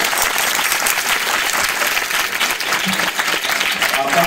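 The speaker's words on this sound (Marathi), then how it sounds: "टाळ्या." An audience claps continuously and loudly throughout at a gathering of young warkari students, forming a dense, even wash of applause with faint crowd murmur underneath.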